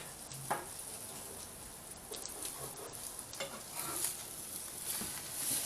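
French toast sizzles steadily in a pan, with scraping and clinks from a spatula as the slices are flipped, close and continuous with no talk.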